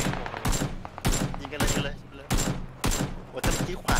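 Rapid bursts of video-game gunfire crackle in repeated loud volleys, roughly every half second to second, with a voice talking faintly underneath.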